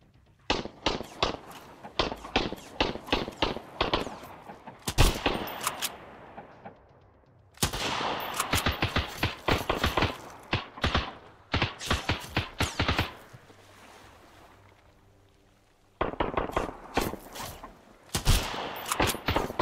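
Game gunfire in Sunkenland, a survival shooter, crackles in rapid volleys of loud, close shots with short bursts and brief pauses, falling silent for a few seconds before another burst resumes.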